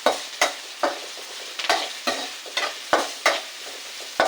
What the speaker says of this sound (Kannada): ಲಂಗ್ಸ್ ಫ್ರೈ ಮಾಡ್ತಾ ಇದ್ದೀವಿ ಅಲ್ಲಮ್ಮ